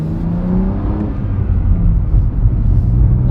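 A BMW G82 M4 fitted with a prototype Bomiz full catback exhaust, heard from inside the cabin: a loud, steady low drone with a deep rumble that swells slightly under throttle, with no talking.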